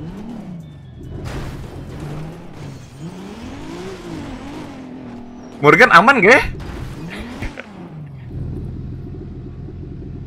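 A Toyota Supra MK4 with a 2JZ engine in the GTA video game idles and rumbles, then revs hard in a short, loud climbing burst before settling back to a steady drone, under ongoing casual talk.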